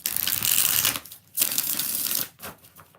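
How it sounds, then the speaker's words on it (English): A Soulful Revolution tarot deck is shuffled by hand, producing close, crisp riffling bursts of cards in several short rounds separated by brief pauses. "We're going to use this Soulful Revolution deck. 5 shuffles."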